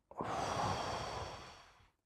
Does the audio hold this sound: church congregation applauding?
no